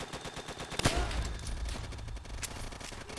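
Rapid gunfire from the Call of Duty: World at War video game rattles in dense, loud bursts with a booming blast near the start, continuous and unbroken by speech.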